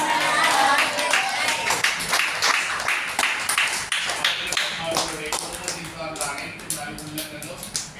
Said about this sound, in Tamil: எல்லாரும் கைத்தட்டி திருமண நாள் வாழ்த்துக்கள்